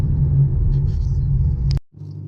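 A C6 Corvette with an aftermarket exhaust rumbles steadily while driving, a deep, loud low drone that holds for nearly two seconds, cuts off abruptly, then resumes at a lower level.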